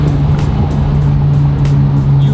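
A BMW F30 320i running a BM3 tune hums steadily up close at a fairly loud, constant level, a low engine drone with faint crackles of exhaust burble over it and no talking.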